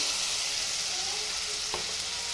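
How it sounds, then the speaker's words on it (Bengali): Onion, garlic and ginger paste fry in a pan with tomato, giving a close, steady sizzle and crackle with a soft stir near the middle. Nobody speaks. "পেঁয়াজ রসুনটা একটু ভাজা ভাজা হয়ে গেছে"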